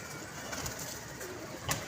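Pigeon at a pigeon club giving soft, faint cooing over a low background hum, with a brief louder burst near the end; no talk.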